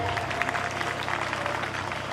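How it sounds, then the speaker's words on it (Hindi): An audience at a school annual function applauds the children, steady dense clapping from a crowd, even and sustained throughout. "Please बच्चों के लिए तालियां तो बजा दीजिए."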